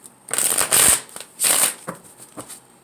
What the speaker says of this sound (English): Let's shuffle once more.